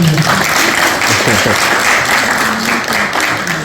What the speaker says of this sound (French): Veuillez applaudir pour lui.